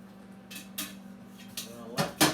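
Boiled spaetzle being drained from a pot, a handful of short metallic clanks and splashy bursts spaced unevenly, the last two louder and close by.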